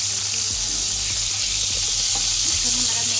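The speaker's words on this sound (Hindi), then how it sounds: "मक्खन अच्छे तरीके से मेल्ट करेंगे" Butter melts in a pan for a sauce with a steady, dense sizzle and hiss close up, with a few faint utensil knocks and a low hum beneath it.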